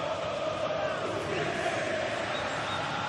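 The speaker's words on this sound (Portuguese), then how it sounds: "E o show da torcida do Verdão continua." Palmeiras fans fill a stadium at a FIFA Club World Cup match against Porto with a constant distant roar of chanting and cheering, a steady wash of crowd noise with no break.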